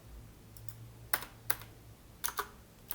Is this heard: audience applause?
no